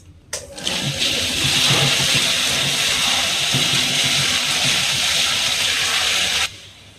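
A loud, steady whirring grind starts abruptly, runs evenly for several seconds, then cuts off.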